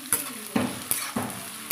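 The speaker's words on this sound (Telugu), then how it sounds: "ఆనియన్స్ ఫ్రై చేసుకుందాం." Onions frying in a pan for tomato fenugreek curry, a low sizzle punctuated by four or five distinct scrapes and clinks of a stirring spoon against the metal pan, close and clear with no talking.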